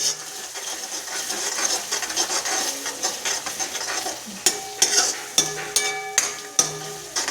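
Coriander-cumin powder, chili and turmeric sautéing in a hot pan: a steady close sizzle with busy stirring scrapes, then a run of sharp clinks as a spoon strikes the pan rim.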